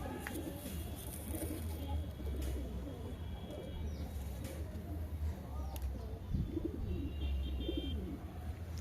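Pigeons coo in low, throaty murmurs against a steady, dense background hum at a pigeon keeper's loft in the evening, with faint chirps and distant traffic mixed in.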